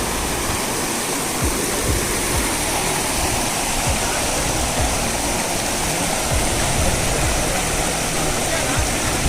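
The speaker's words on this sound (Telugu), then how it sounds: "ఇది వాటర్ ఫాల్ పైన" The Chinthalatana waterfall roars loudly and continuously, a dense unbroken rush of water filling the whole clip with no pauses.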